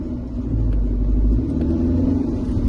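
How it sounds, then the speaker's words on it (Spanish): Mercedes-Benz car engine accelerating with a P008A low-pressure fuel system fault and loss of power, a loud, steady low rumble that swells slightly without clear revving. "Entonces ahí ya aceleramos el vehículo y el vehículo se desmayó totalmente"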